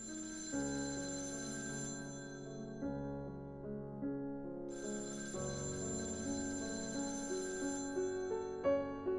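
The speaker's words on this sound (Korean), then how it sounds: "신호가 가는 소리." A telephone rings as an outgoing call connects, sounding as two long, bright ringing bursts separated by a pause, set over soft, gentle background music.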